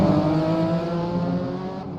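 Vintage race cars in an IMSA vintage championship round at Sears Point, California, roaring through a turn: loud, close engine drone with strong harmonic tones, sustained and slightly falling in pitch as the cars pass.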